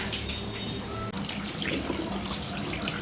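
Water runs steadily from a tap in a flat, pouring dark, iron-stained water into a bucket with a continuous close hiss and splash.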